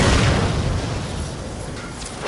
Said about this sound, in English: Return to the cannon and pull the trigger. Direct hit. The galleon has been obliterated.